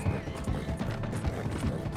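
Horse hooves in the Red Dead Redemption 2 video game give a steady, close clip-clop of galloping hoofbeats with a thumping rhythm throughout, under a faint background din.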